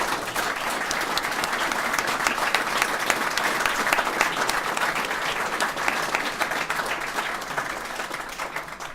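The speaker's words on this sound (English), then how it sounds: "I think that's worthy of a full applause" Sustained audience applause in a hall, dense and steady clapping that holds at an even level for the full stretch with little talk.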